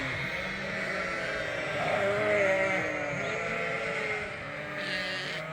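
Sheep and lambs being moved on a farm bleat steadily, several overlapping loud, wavering calls close by, rising in a cluster midway with no talk.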